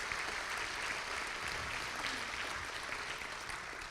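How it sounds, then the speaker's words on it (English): An audience at a pro-life celebration event claps continuously, a soft, even wash of applause heard from some distance with no voices over it. "Yes, you can clap for that."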